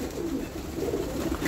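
Pigeons coo in low, soft, repeated throaty phrases nearby in a loft, several overlapping calls running continuously.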